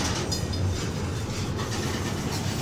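Canadian National freight train number 9638 rolling through Effingham, Illinois, a steady loud rumble of railcars and wheels with no voices over it.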